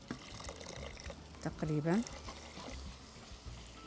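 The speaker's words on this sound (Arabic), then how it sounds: "نضيف عليك كوب من المي" Water is poured from a cup into yogurt in a cooking pot, a short liquid splash and trickle under a voice speaking Arabic nearby.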